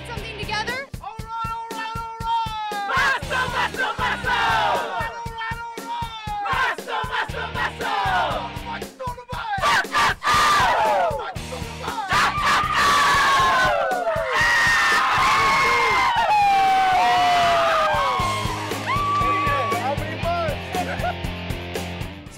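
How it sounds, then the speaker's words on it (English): A crowd of fans at a college game day lets out a loud, sustained cheer for Zeke, with whoops, screams and shouting voices layered together, rising and holding strong throughout. "let's hear your guys' best cheer for Zeke"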